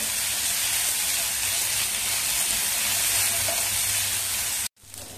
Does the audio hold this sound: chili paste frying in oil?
yes